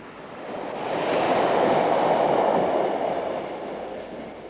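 A rush hour train arriving at London Paddington: a loud, broad rumble of carriages rolls past, swelling to a peak and then easing off, with no speech.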